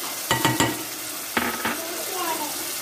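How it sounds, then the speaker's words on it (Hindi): Masala with tomatoes frying in a pan for Maggi noodles, with a steady soft sizzle and a few sharp stirring scrapes near the start and middle, close and fairly quiet. "इतना भूनना, बहुत अच्छा सा हमारा मसाला भून जाए।"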